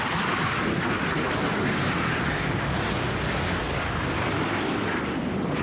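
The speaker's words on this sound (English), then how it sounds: "these jets, as they soar through the sky" Jet aircraft roar steadily at a 1993 naval air show at Point Mugu, a loud, continuous broadband rumble that fills the whole stretch with no voices.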